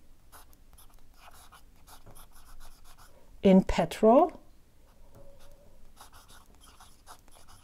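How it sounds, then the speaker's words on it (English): Lamy AL-Star fountain pen with a medium broad nib scratching across paper, a close, dry scratchy writing sound in short strokes, with brief loud bursts of speech in the middle. "This paper is interesting with this pen because it makes a noise."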